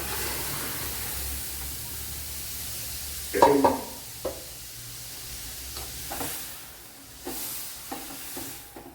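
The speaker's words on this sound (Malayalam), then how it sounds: "ഇതിലേക്ക് ഇനി വെന്ത സാമ്പാർ കഷ്ണങ്ങൾ ഒഴിച്ചു കൊടുക്കുക." Cooked sambar vegetables drop into a hot pan with a short burst of sizzling and splashing, followed by a few softer stirring scrapes and faint hissing over a low background hum.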